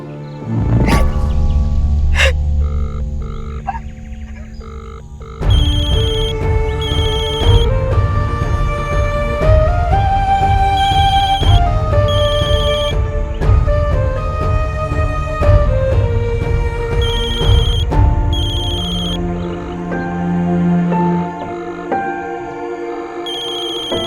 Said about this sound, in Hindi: कौन सा दूसरा फोन बज रहा है?